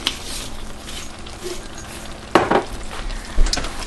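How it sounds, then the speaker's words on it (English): Sloppy joe mixture seasoned with garlic and onion powder is stirred in a pan, with a soft background sizzle and a few louder scraping stirs near the end. "Let's give this a good stir."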